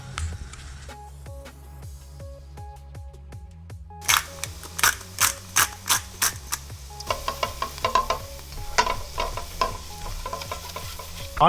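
Garlic and onions sizzle in a pan while a utensil scrapes and stirs them in a repeated rhythm, the clicks and scrapes loud and close over a steady frying hiss.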